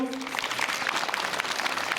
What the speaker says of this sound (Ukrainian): під ваші оплески